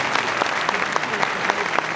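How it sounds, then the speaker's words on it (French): A New Year's greetings evening audience claps for Senator Bourgi and Deputy Lopez Ligori, a brief, close round of many hands with a few sharper individual claps standing out. "Vous pouvez les applaudir."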